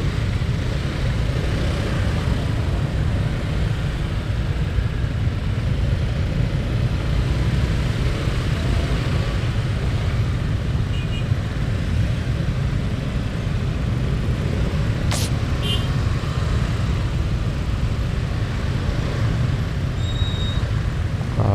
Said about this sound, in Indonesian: soalnya sampai sini aja udah padet banget, udah macet nih sini